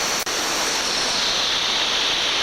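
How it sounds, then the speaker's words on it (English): A small waterfall in a river valley fed by lakes pours with a steady, dense, close rushing roar that stays even throughout, with no voices. "I am looking at a lovely little waterfall here."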